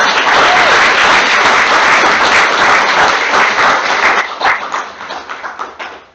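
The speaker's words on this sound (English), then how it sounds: "so let's give them a round of applause" Loud, dense round of applause from those attending a school board meeting, sustained and then thinning into scattered individual claps before fading out.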